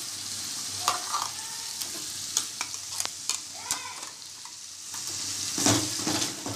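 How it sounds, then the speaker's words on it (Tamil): Ground spice paste frying and being stirred in a pan of Keelakarai-style chicken gravy, a steady sizzle broken by scraping stirs and clinks close by, with no talking. "இப்போ நம்ம அரைச்சி வச்ச இந்த பேஸ்ட் இதில் சேர்த்துக்கலாம்."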